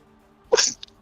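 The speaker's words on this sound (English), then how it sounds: "That was a sneeze." A single sharp human sneeze at a tabletop role-playing game session, close and loud, with a short breathy tail and a faint follow-up sound just after.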